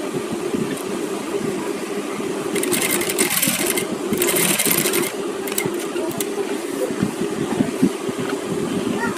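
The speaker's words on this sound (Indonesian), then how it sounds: "Kita jahit dari sini." A sewing machine stitches fabric for a garment in a steady, fast mechanical whir with rapid clatter, close and continuous, briefly louder and brighter in the middle stretch.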